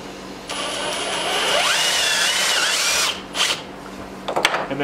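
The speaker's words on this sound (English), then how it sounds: "Just drilling right through it." A power drill whirs loudly and bores through wood, its motor pitch bending as it bites in, then stops, followed by a few clunks.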